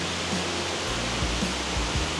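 Dai Chong Thong waterfall in Sangkhla Buri, upper tier, a steady hissing rush of cascading water nearby, with a few low thumps underneath and no talking.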